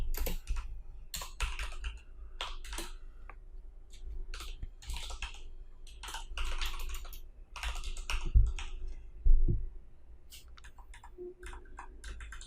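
Typing on a computer keyboard, a steady run of light, quick key clicks with short pauses and a few heavier strokes, close and fairly quiet.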